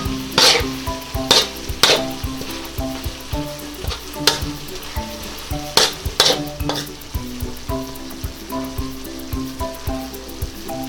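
Shrimp stirred as they fry in a pan for honey shrimp with broccoli, a constant bright sizzle punctuated by loud rhythmic clanks and scrapes of a spatula against the pan, close up, no talking.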